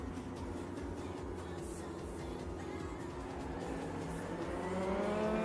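A race car engine in a VRChat GT racing tournament drones steadily at the launch, its revs climbing audibly toward the end as the pitch rises and the sound grows slightly louder.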